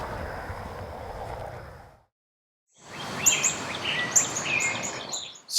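Birds chirp in springtime Louisville, several bright calls and tweets scattered over a steady outdoor wash, with a brief silent gap before the chirping resumes more densely toward the end.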